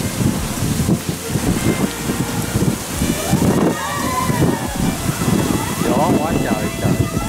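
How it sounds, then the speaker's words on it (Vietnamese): Strong wind buffets the microphone aboard a speedboat at sea off Hà Tiên, Kiên Giang, a steady roar with sloshing water and engine rumble beneath, while people talk throughout. "Gió quá."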